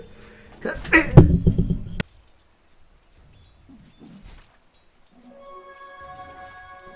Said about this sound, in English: couldn't hold that sneeze back